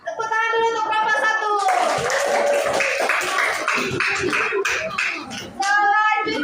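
Children in a fourth-grade primary school classroom break into a burst of rhythmic group clapping for a class group, loud and close, with young voices and chatter before and after.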